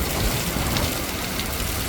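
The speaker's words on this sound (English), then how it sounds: "But so is this wind." Strong wind gusting steadily in Georgia, driving rain against surfaces outdoors, a continuous loud broadband roar with no talk.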